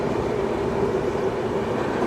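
Inside a passenger train on the Hazur Sahib to Nanak Jhira route, near Purna Junction, a continuous, even rumble of wheels and carriage fills the space loudly, with no voices.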